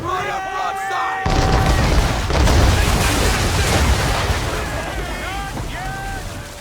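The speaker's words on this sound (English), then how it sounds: "Fire broadside!" Broadside cannons of a frigate thunder in Assassin's Creed III, a heavy low rumble of booms rolling over wind and sea noise after a shouted command, with voices calling out nearby.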